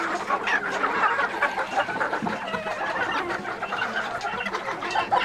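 A flock of backyard hens clucks and chatters continuously at close range in winter, with overlapping busy calls and no speech.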